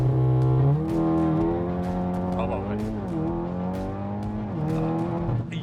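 A car launches hard at a Fuel Fest launch event, its engine climbing through rapid rising pitch sweeps with quick gear changes, loud and close throughout, with tyre noise and people talking over it.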